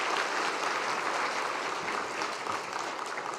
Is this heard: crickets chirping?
no